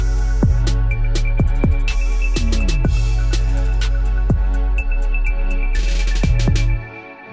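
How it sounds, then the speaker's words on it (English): A full multi-instrument music track with drums, bass and sustained tones plays for a couple of bars without stereo panning, loud and continuous before cutting off near the end. "I'll let you hear the track without panning."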